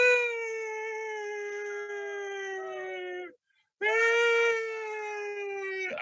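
A human voice imitates a fire truck siren with two long, loud, sustained wails that slowly fall in pitch, separated by a short breath.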